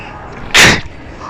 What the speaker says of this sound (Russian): я просто с открытыми глазами хотел чихнуть и забыл прикрыться